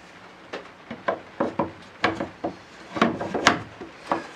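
Wooden slats on a sailboat, not yet fully sanded, drop into place one after another, giving a series of sharp hollow knocks and light scrapes at an uneven pace, close by and with no talk.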